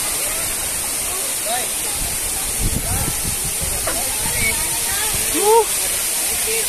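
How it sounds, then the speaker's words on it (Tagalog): Bambi Falls, a waterfall in Negros Occidental, gives a steady, broadband rushing roar that fills the whole clip. A voice speaks faintly now and then underneath. "Ito na yung pinaka falls."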